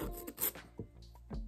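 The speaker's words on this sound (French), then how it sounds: "je vais du coup les limer, histoire de leur donner une jolie forme" A small nail file rasping across fingernails in a few short, close strokes with brief pauses between, quiet and without talking.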